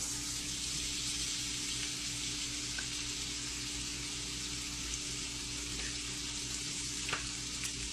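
Onions sizzle and fry steadily in a pan as they begin to caramelize, a constant close hiss with a few faint clinks and stirring sounds over a low steady hum.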